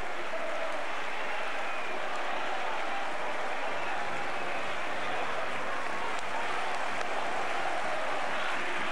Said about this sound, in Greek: δικαιολογημένα δέχεται τώρα ολόθερμο το χειροκρότημα των φίλων του ΑΠΟΕΛ